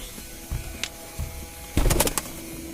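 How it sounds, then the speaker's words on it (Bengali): Pigeons coo nearby in a low, soft, repeated rhythm, with a few separate calls and a brief burst of rustling or wing movement near the end. "চলেন আমাদের কবুতরগুলোকে একবার দেখানো যাক"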